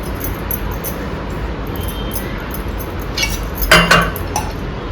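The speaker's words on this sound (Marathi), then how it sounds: "म्हणून मी याला आता झाकून ठेवते एका पातेल्यामध्ये" A cooking pot is covered, probably with a lid, after ridge gourd peels are set aside in a home kitchen. A short clink of metal or glass stands out near the end over faint background hiss.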